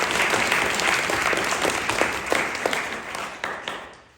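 An audience at a literary competition awards ceremony applauds a poetry winner, a full burst of many hands clapping at steady strength that tapers off toward the end.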